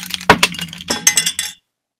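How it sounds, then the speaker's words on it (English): A small piece of glass dropped onto a desk, giving a quick run of sharp, close clinks and ticks over about a second and a half before cutting to silence. "it was actually a bit of glass. I was just dropping it on my desk."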